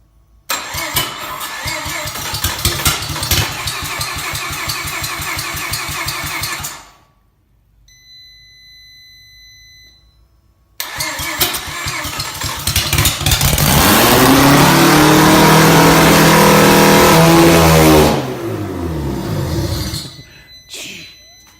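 A freshly rebuilt Mazda S5 Turbo II rotary engine with a full bridgeport cranks and fires for the first time, its rough idle breaking off into a pause before it restarts and climbs into a loud, sustained rev that drops away at the end.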